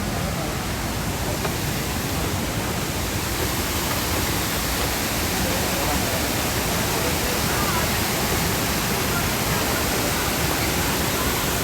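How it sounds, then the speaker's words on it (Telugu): Hogenakkal Falls roars as a steady, dense wash of falling water, constant and loud throughout with no breaks. "ఇదేనా హొగానికల్ ఫాల్స్?"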